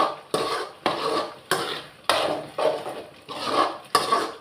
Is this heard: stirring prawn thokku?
yes